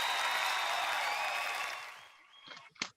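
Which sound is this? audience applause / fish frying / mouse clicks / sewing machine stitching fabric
audience applause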